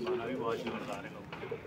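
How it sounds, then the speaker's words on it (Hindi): Sikra pigeon, a high-flyer breed caught in the rainy season, gives soft cooing calls close by, mixed with ongoing speech. "ये सिकरा कबूतर है"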